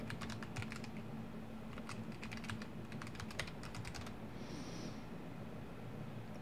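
Quiet, rapid keystrokes on a computer keyboard as an email address is typed into a software registration form, bursts of clicks separated by short pauses.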